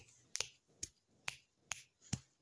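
Five crisp, isolated finger snaps at an even, steady pace, sharp and close with silence between each, standing alone with no talking.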